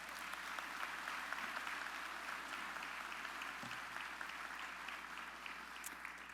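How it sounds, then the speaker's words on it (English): Sustained applause from an audience at a county Republican event, steady broadband clapping throughout, fairly distant and moderately quiet with a few brief voices mixed in. "Now you can give a round of applause."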